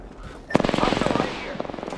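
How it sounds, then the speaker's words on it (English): A rapid automatic weapon in a shooter video game fires a loud, close burst of evenly spaced shots that starts abruptly with a sharp crack, then continues in a steady rattling rhythm that fades slightly toward the end. "I am taking fire, friend."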